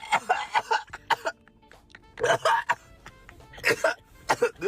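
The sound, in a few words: cough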